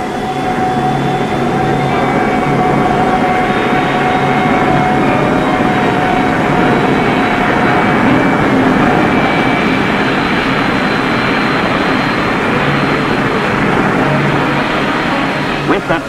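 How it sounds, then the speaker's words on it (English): A steady, loud roar of America's first jet plane in flight in 1942, continuous and unbroken throughout, with faint high whining tones running across it. "These are the original films of the first jet plane ever to fly in America."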